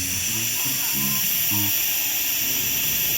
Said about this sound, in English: So we take her outside now and blow the steam off.